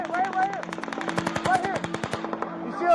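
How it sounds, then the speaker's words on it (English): Rapid automatic gunfire from the Las Vegas shooting at Mandalay Bay, heard as dense, fast bursts of shots over about three seconds, fairly loud and sustained, with a crackling echoing quality and no clear speech. "They eventually spotted multiple flashes of gunfire from the middle of the northern side of Mandalay Bay"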